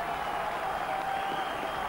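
Football crowd at a Greenock Morton cup match against Kilmarnock, a dense steady roar of cheering and applause from a large stadium audience, continuous throughout.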